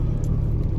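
A Ford Bronco without overdrive rumbles steadily on a winter drive from Wisconsin toward New Mexico, heard from inside as a continuous low engine and road drone with no talk.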